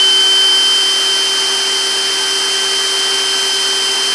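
Cordless impact wrench spinning freely at full speed, a steady high motor whine with sharp tonal hum, loud and close, holding constant for several seconds without speech.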